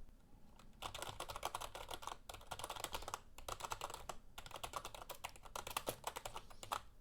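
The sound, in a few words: typing on budget computer keyboard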